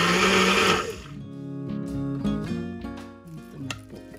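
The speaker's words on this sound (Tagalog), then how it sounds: "Saka natin i-blender." A kitchen blender whirs loudly as it blends chili paste with a cup of oil, starting with a harsh full-power burst before settling into a lower, uneven motor hum.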